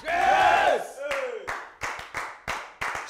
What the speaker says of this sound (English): Clap your hands and shout, grace!